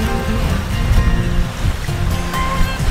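Surf washes steadily at a beach on Fraser Island, a loud, continuous broadband rush of breaking waves with no voices over it.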